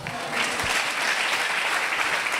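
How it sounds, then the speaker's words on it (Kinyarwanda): A church congregation claps loudly and continuously in a dense, even wave of applause filling the room, with faint voices mixed in. "Mukomere Imana amashyi menshi cyane."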